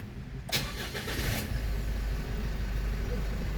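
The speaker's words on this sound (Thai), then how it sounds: "สามารถเหยียบเบรกแล้วก็กด สตาร์ทได้เลยนะครับ" A car engine starts from an aftermarket push-start button: a brief cranking burst catches after half a second, lasts about a second, then settles into a steady low idle close by.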